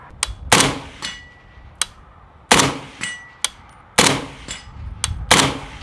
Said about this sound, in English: Let's take some more shots at 100.